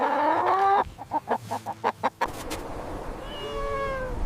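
A rooster call comes close and clear, a drawn-out crow followed by a quick run of clucking pulses, then a fainter, higher trailing call.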